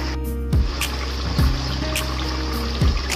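Water trickles and splashes into a pot of mutton during cooking, a steady pouring flow broken by a few sharp thuds and clinks, close by and alone.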